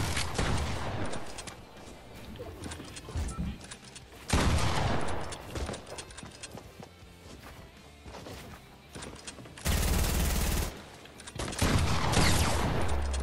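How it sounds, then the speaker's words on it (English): Gunfire in the video game Fortnite, with dense bursts of rapid shots and crashing impacts coming in loud waves across the clip, plus a few brief voices. "You're getting shot at."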